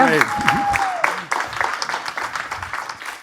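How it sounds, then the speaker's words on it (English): An audience at a talk on social emotional learning claps through a closing round of applause, with scattered individual claps and voices talking over it. "let's give a final round of applause"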